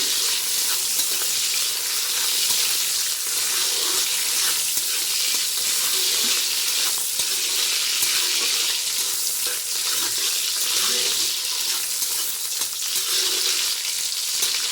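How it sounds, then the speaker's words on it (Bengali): Cashew nuts frying in hot ghee, probably for fried rice, give a steady, close sizzle with faint stirring scrapes that runs evenly throughout without speech. "কাজু বাদাম আমি দিয়ে দেবো, দিয়ে দিলাম। এগুলো একটু ভেজে নেব আমি।"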